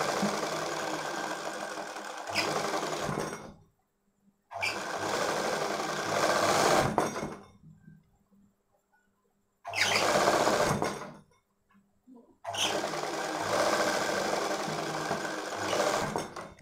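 A sewing machine stitches a boat-neck baby frock in four long runs of steady mechanical whirring, separated by brief pauses of near silence.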